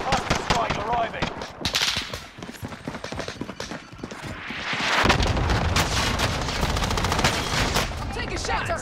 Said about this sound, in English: Allied cluster strike arriving.